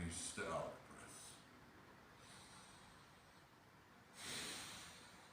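Slow nasal breathing during a centering breathing exercise, with a sharp inhale through the nose at the start and a longer soft exhale later, close and quiet in a still room.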